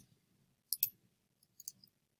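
Typing on a computer keyboard: a few quiet, crisp key clicks in two small clusters, close and faint against near silence.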